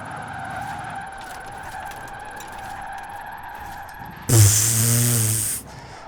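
An electric car in Forza Horizon 4 whines steadily, then a loud tyre screech bursts in as it drifts on the held e-brake, lasting just over a second before cutting off; no talking.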